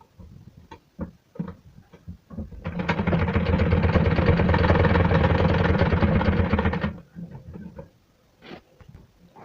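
A sewing machine stitches a blouse sleeve in one sustained run of rapid mechanical whirring lasting several seconds, framed by scattered clicks and handling taps before and after.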